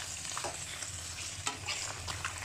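Quiet, steady sizzling of catfish frying in a stainless steel pan, with a few soft crackles and spatters.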